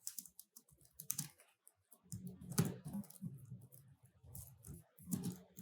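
A computer keyboard being typed on at a steady pace while a program is written, with quick clustered key clicks, close and fairly soft.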